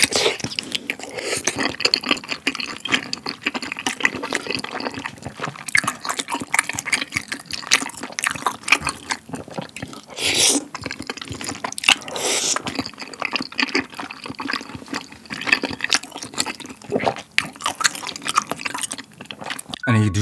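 Spicy Yupdduk tteokbokki cooked with New Jin ramen noodles and egg yolk, eaten up close: steady wet chewing and slurping with sticky, liquid squelches and occasional louder bursts, continuous for the whole stretch with no talking.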